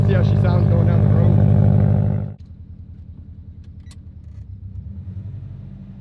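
A Subaru fitted with an Invidia downpipe drives down the road, its engine a loud, throaty drone for a couple of seconds before dropping abruptly to a quieter, steady rumble.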